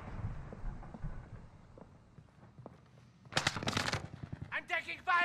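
Bursts of automatic gunfire in the video game Call of Duty Warzone, a quiet stretch of game sounds followed by two loud rapid volleys and a few sharper shots near the end.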